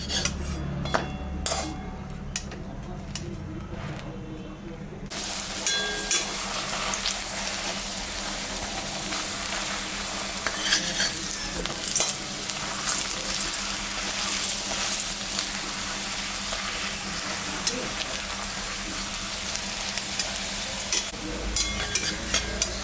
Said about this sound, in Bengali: কড়াই গরম হয়ে গেছে। এখন আমি পরোটা ভাজে নেব।